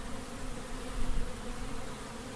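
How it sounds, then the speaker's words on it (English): Honeybees in a busy long hive fill the air with a dense, steady buzzing that swells slightly midway, close and continuous with no voices. "how powerful this hive is, how many bees are in here"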